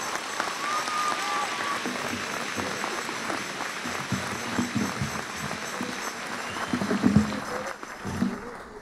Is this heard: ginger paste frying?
no